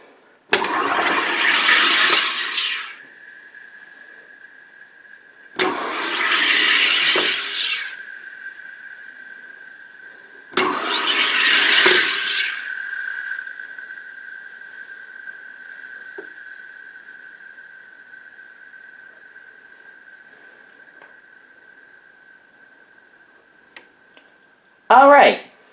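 A SodaStream soda maker carbonates water in three loud hissing bursts of gas at steady intervals, each followed by a lingering whine, then a short sharp click at the end.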